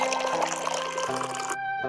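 Water is poured into a clay pot in an animated Hindi story, a loud, close rushing splash whose pitch climbs steadily as the vessel fills, then cuts off abruptly near the end.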